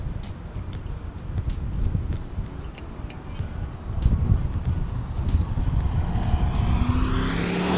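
A 2004 Ford Thunderbird approaching and rolling past nearby, engine and tire rumble rising then fading, with wind buffeting the microphone throughout.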